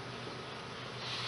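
Honey bees stirred up around a beekeeper's head at an open hive make a steady, dense buzzing hum that stays close and continuous throughout, with no voices.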